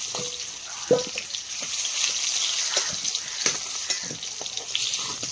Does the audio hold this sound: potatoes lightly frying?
yes